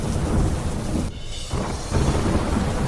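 Heavy monsoon downpour with rolling thunder in Modasa, on a flooded road, a dense continuous roar of rain with deep rumbles that briefly dips quieter mid-way before surging loud again.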